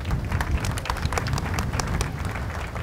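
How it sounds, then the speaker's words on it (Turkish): Studio applause after a correct answer on a religious quiz show, a steady dense patter of many hands clapping throughout, fairly close and even in level with no talk over it. "Tebrik ediyorum. Alkış."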